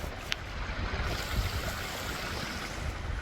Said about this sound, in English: Little cascades.